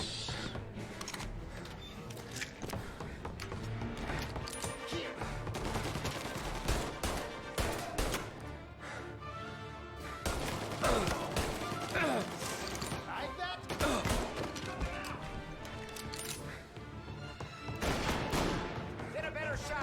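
Gunfire in the crime shooter Mafia: Definitive Edition, with bursts of rapid shots and mechanical clatter over a dense, busy game mix, while voices shout in the middle of the fight.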